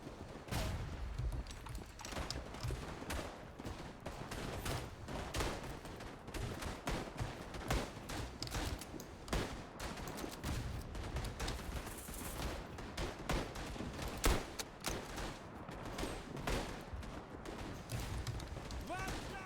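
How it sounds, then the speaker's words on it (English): Machine gun fire in the World War I shooter Tannenberg, with rapid, dense bursts of gunfire close by and constant shots in the background throughout. "Look at me with my machine gun."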